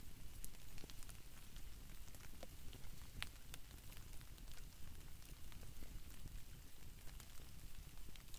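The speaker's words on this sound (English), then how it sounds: "But the rain was really nice." Steady rain patters faintly and continuously around a lean-to campsite at night beside a campfire, with scattered sharper drops and soft crackles, no voices.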